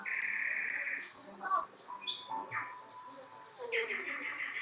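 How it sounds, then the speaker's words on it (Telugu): Birds in an aviary with parrots and peacocks, clear close chirps, whistles and tweets coming in separate bursts from several birds, with brief pauses between calls. "ప్యారెట్స్. వచ్చేసి ఏదో పక్షులు, పేర్లు అని తెలియదు."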